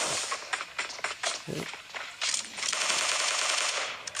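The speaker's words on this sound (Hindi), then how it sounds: "ये सरप्राइज शॉट" Rapid bursts of automatic gunfire and single shots ring out in the PUBG video game, mixed with footsteps and game effects in a dense, loud, continuous battle soundscape.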